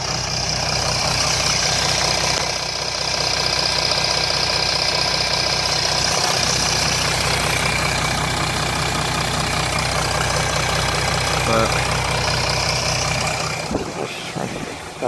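A 2007 Jeep Grand Cherokee 3.0 CRD diesel idling with a rattle, a loud, steady close-up drone with a rhythmic clatter that holds throughout, ending in a few knocks and handling noises.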